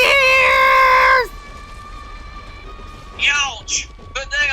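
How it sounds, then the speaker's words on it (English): A woman's high-pitched, sustained scream blares loudly for about a second in a wrestling show, followed by a faint lingering tone and brief excited voices. "That was the loudest scream I've ever heard."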